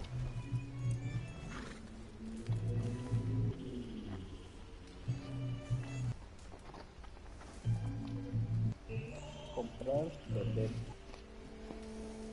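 A horse in the Red Dead Redemption video game whinnies and neighs amid clip-clopping hooves and other wild animal sounds, repeated bursts over a game soundscape, with people talking over it.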